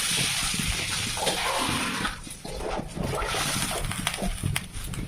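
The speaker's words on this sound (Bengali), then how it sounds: "যে কড়াইটা এর মধ্যে আমি জল দিয়ে দেবো" Water is poured into a wok on the stove in a home kitchen, making close sloshing and splashing that dips briefly midway, then resumes with scattered spatters.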